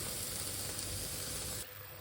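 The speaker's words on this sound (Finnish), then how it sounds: "Mulla on siis paistamassa porkkanaa ja punasipulia" Sliced carrots and red onion fry in a pan with a steady, close, dense sizzle that drops slightly in intensity near the end.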